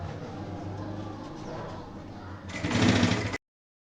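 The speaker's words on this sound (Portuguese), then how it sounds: "Vou começar costurando aqui na parte de cima." A sewing machine stitching a backpack, a low soft mechanical whir that swells into a louder, brighter burst of rapid stitching near the end before stopping abruptly.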